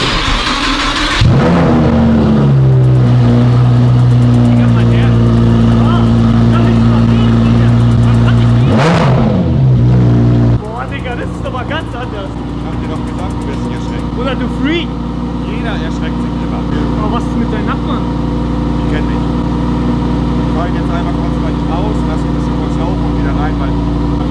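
A loud sports car engine fires up and revs hard, deep and roaring, then settles into a rumbling idle that runs under the rest, with people talking nearby.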